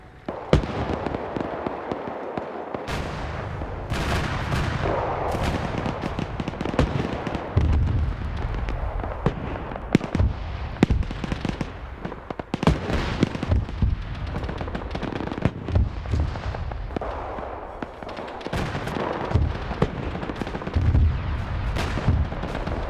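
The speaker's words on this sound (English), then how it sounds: "Gonna hit it with some artillery in the meantime." Dense, continuous artillery barrages and explosions in the WW2 tank-combat game IFA WW2, with heavy booms and sharp cracks overlapping throughout, loud and near, layered over a constant battlefield rumble.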